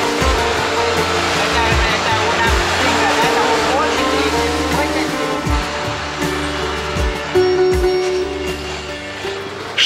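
A boat travels along the Chao Phraya river in Bangkok, its engine a loud steady drone with dense rumbling wash, and low thumps recur throughout.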